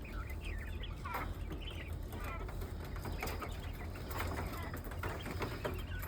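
Faint, high, chirping calls of a young turkey repeat several times over a steady background rumble, with some talking mixed in.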